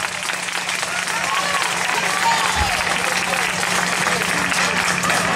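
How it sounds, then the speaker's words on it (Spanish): Applause from an audience at a town festival proclamation in La Pinilla, Murcia, a steady, dense clapping that fills the whole stretch at an even, fairly distant level. "pido un fuerte aplauso para ellos"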